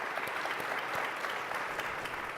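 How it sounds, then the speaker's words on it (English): Sustained applause from a conference audience at a political plenary forum, honoring two panelists; steady, dense clapping throughout with no speech over it. "So if you'll join me in giving Dr. Walker and Mr. Cohen a round of applause"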